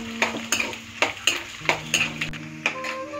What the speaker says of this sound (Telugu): పల్లీలు కొబ్బరి ముక్కలు కూడా వేసుకున్నాను ఇవి బాగా వేయించుకోవాలి